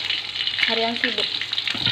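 Brief close sizzle of stir-frying for a potato and tofu tumis, a bright steady hiss with a short voice heard over it.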